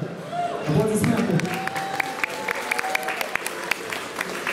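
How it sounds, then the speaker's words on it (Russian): Clapping from spectators at an amateur boxing tournament's ring, sparse individual claps ringing out in a hall while a voice and background crowd murmur carry underneath. "Аплодисменты."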